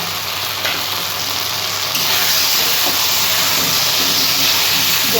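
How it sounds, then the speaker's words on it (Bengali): Ground cumin, coriander, chili, turmeric and Kashmiri chili powders with meat masala fry in oil in a pan for jackfruit kofta curry, giving a loud, steady close-up sizzle and hiss throughout. "জিরে গুঁড়ো, ধনে গুঁড়ো, লঙ্কা গুঁড়ো, হলুদ গুঁড়ো, কাশ্মীরি লঙ্কা গুঁড়ো সব আমি একবারে দিয়ে দিলাম"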